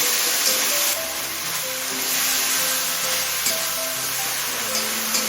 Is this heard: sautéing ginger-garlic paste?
yes